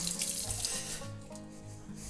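Running water from a kitchen sink tap as fresh herbs are rinsed while cooking shorba, a steady close splash with a brief shifting gurgle, no talk.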